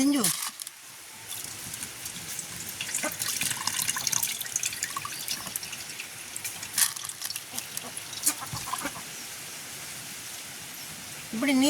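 Soft trickling and dripping of water draining from soaked rice in a strainer basket, faint and irregular, with small splashes and scattered clicks.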